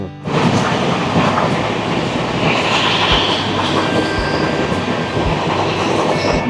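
The 12321 Mumbai Mail runs loudly and steadily on the rails after leaving a Jharkhand station in dense fog, with a dense rolling rumble, rhythmic clatter and an occasional faint squeal, no voices.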